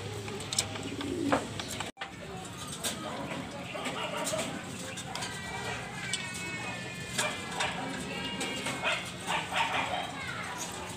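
Pigeons in a loft coo and flutter during feeding, with soft bird calls and rustling scattered throughout while someone talks over them nearby and a dog barks briefly.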